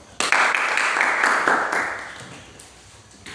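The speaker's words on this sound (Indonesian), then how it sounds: "Tepuk tangan untuk kalian semua." A class of students clapping in a classroom, a loud burst of applause that swells quickly and then fades out over a couple of seconds, ending in a quiet room.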